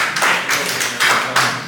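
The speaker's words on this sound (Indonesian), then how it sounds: "oke, tepuk tangan untuk kelompok" A group claps at a campus presentation session, a few loud bursts of hand claps rising and falling over under two seconds, close and unaccompanied by speech.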